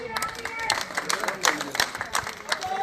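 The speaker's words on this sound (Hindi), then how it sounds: "तालियां बजा करके" Audience clapping to welcome the chief minister at a public event in Rajasthan, with Ashok Gehlot arriving; scattered claps over crowd murmur and voices.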